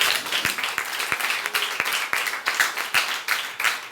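Church congregation clapping in time, many hands striking a steady beat about twice a second over a dense bed of applause, fairly loud and close, no speech heard.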